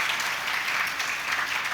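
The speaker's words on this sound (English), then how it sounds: "I really feel we need to applaud for the warriors." An audience at a national awards ceremony applauds in a dense, steady wash of clapping, moderately loud and even, with no voices on top.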